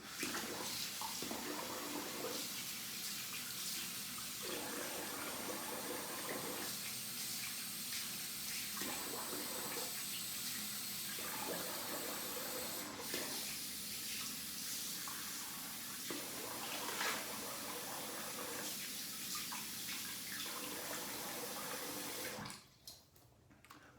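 A Merkur 34C double-edge razor is rinsed under a running tap: a steady, close rush of water flows for about twenty seconds with slight shifts as the blade passes through, then cuts off near the end.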